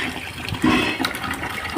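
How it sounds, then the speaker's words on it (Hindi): Water pouring steadily from a submersible pump into a container at home, a continuous rushing, splashing flow that stays fairly loud throughout. "यहाँ पे समर का पानी भरा जा रहा है"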